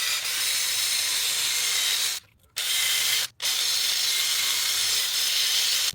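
Crud is scraped and scrubbed off a car thermostat housing in a steady hissing rasp, broken by two short pauses, close and fairly quiet with no voices.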